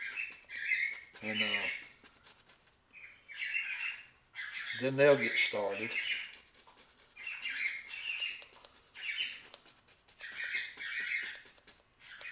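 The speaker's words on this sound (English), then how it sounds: "He'll get to screaming and hollering like he's rounding up all the other birds" Birds let out repeated loud, harsh squawks in bursts throughout, while someone talks between and over the calls.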